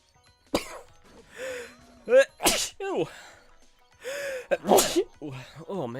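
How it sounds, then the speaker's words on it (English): Several sharp, explosive sneezes and throat sounds burst out close to the microphone, interspersed with breathy vocal noises. "I don't know why I'm apologizing for sneezing."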